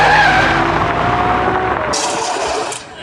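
Miniature model car driving and skidding, a close loud whining motor with a sliding tire scrape, ending in a sharp high hiss and brief screech near the end.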